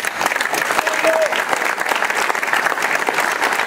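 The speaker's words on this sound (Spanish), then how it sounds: "aplauso." Loud, dense applause from the audience at a memorial event honoring Antonia Martinez Lagares: many hands clapping steadily and close, a continuous sustained roar of claps.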